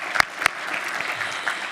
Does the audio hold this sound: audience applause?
yes